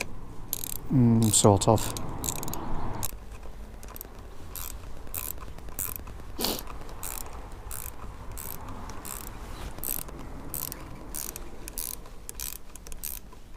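Ratchet wrench turning a bolt on a Honda CB500X motorcycle during a brake and clutch lever install, steady rapid ratcheting clicks close by, with a short spoken remark near the start.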